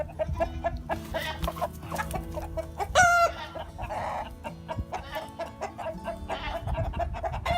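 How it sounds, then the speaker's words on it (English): A Rhode Island Red rooster clucks and croaks repeatedly at close range, with a brief crow-like squawk amid other fowl and farmyard background noise. "there's a rooster, Rhode Island Red rooster upgrade that we have with this bunch"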